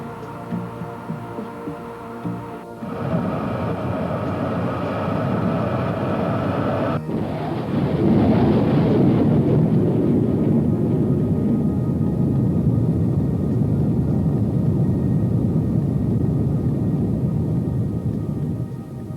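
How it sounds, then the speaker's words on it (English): Lockheed SR-71 Blackbird afterburner lighting, a low steady hum that jumps in stages into a loud, broad, continuous roar that holds to the end. "Afterburner's coming."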